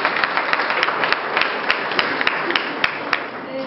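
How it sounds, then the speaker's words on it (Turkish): An audience at an addiction-awareness training event claps steadily for several seconds, with dense overlapping hand claps and a few sharper individual claps standing out. "Aslında bir alkışı da bence hak ediyor."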